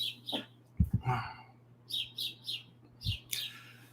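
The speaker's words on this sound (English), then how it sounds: "You may hear the birds out there" Small birds chirp and tweet in short bursts, slightly distant, with a few low thumps in between and no talking.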